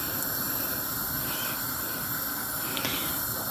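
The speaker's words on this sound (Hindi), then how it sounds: "मैंने चाय का पानी रख दिया उबलने के लिए।" A steady, even hiss of water heating in a pot on a stove for tea continues throughout, soft and unbroken, with a faint click near the end.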